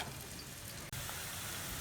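Onions fry in a pan for a Telugu chammakaya fry recipe, giving a steady, soft hiss of sizzling oil with a brief break partway through and no talk.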